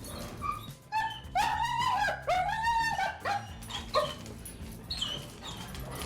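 A German Shepherd whimpers and whines close by in high, rising cries. The cries come in repeated bursts with short yips between them, the dog sounding anxious, and no one talks.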